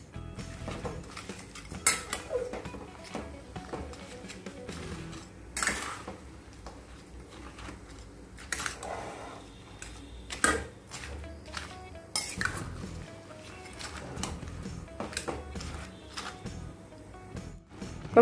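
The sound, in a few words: stirring melting jaggery in a kadhai on the gas stove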